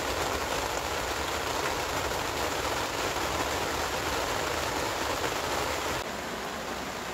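Heavy rain shower pours down on an English farm in September, a dense, unbroken hiss that stays loud throughout and eases slightly near the end, with no voices.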